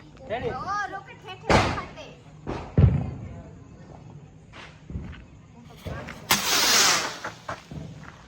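Diwali firecrackers go off outdoors in a few separate sharp bangs and thuds, some near and loud and one with a longer crackling burst, while people talk nearby.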